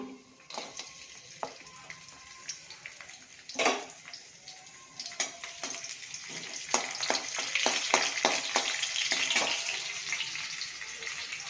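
Garlic and cumin seeds sizzle in hot oil in a home kitchen pan, a steady bright crackle with scattered sharp pops and spoon clicks that grows busier and louder toward the end, with no talking.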